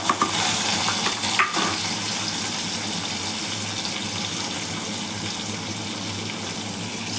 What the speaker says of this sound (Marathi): कांदा परतून घ्यायचा, चांगला लाल होऊन द्यायचा.